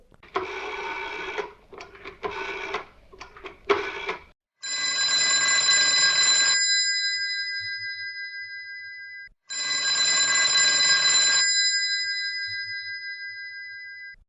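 A telephone rings during a school children's variety program skit, sounding two long electronic ring bursts separated by a pause, loud and close, after a few seconds of scattered clattering noise.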